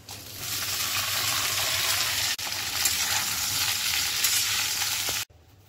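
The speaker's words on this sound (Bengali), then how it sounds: "রাঙা আলু দিলাম একটু, তেজপাতা, রাঁধুনি ফোড়ন দিলাম" Sweet potato, bay leaf and radhuni seeds fry in hot oil in a pan, giving a close, steady sizzle that cuts off abruptly near the end, with no voices.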